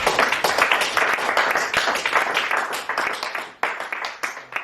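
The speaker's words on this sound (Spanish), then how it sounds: "Dale un aplauso a Dios." A church congregation clapping together during a Spanish-language sermon, many hands producing brisk, rhythmic applause that stays loud and close, dipping briefly before picking up again.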